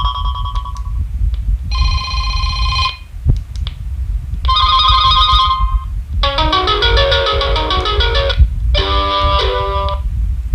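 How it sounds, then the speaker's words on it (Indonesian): Electronic phone ringtones play from a Weirwei W888 POC and analog UHF two-way radio, several distinct bursts of bright, warbling synthetic melody tones separated by short gaps, loud and close over a faint background hum. "Nah, ini untuk suara ya. Phone ringtone misalnya."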